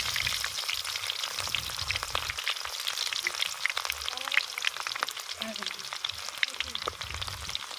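Onions sizzle and fry steadily in a pan for a curry of stuffed brinjal, a dense hiss with crackles throughout and a few faint kitchen clinks, no speech.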